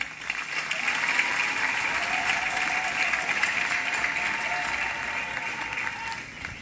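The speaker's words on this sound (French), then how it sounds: "Disons-leur merci en les applaudissant très fort." Inside a church during a chapel blessing Mass, the congregation applauds strongly for several seconds, a full, steady patter of many hands with a faint tonal hum underneath, tapering slightly at the end.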